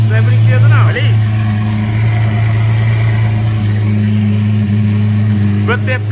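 A Lamborghini Aventador V12 engine runs close and loud with a deep, steady idle rumble that holds throughout, while people talk over it.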